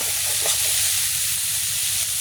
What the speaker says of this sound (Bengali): মাছের ডিম দিয়ে কাঁকরোল ভাজা